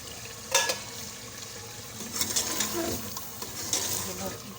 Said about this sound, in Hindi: अब हम इसके अंदर अपनी ये लौकी ऐड करेंगे।